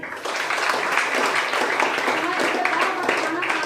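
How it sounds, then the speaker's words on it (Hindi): Audience at a motivational seminar breaks into loud, sustained applause, dense clapping filling the room with a speaker's voice mixed in. "जोरदार ताली"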